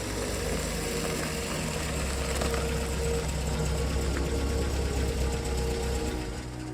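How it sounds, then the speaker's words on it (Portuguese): Steady low engine rumble of idling motors, continuous and even throughout, with a constant hum and no voices. "Bill acordou com um som de motores em marcha lenta na calçada."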